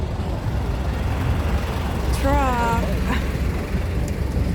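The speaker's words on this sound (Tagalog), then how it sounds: "May truck." A truck rumbles by in night-time city street traffic, a low steady roar under ambient street noise, with a brief tonal warble from a voice or horn midway through.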